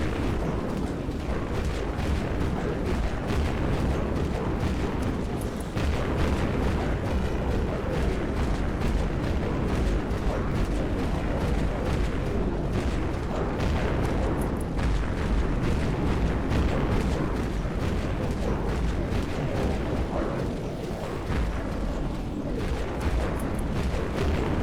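Continuous loud barrage of grenade launcher explosions in the Dead Frontier video game, dense overlapping booms and rumbling blasts sustained without a break.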